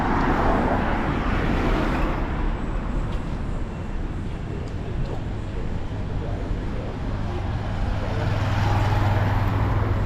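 Steady road traffic on a busy Nairobi city street, a continuous broadband rumble of passing cars and engines that swells toward the end, with no clear speech.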